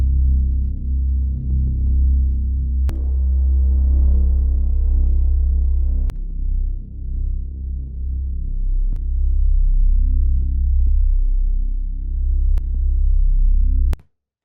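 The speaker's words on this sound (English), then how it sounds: "Next thing I want to do is I want to bring in some sort of sub bass." Deep sub bass sample played in FL Studio for a dark trap beat, sustained booming low notes held and retriggered in a slow pattern, loud and alone.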